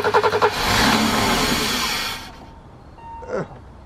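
A BMW E30 with its M20 engine runs close by, a brief sputter at the start giving way to a steady mid-pitched hum that fades out after about two seconds, followed by a short squeak.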